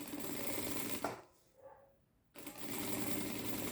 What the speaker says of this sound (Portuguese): Vou de novo costurando pelo TNT.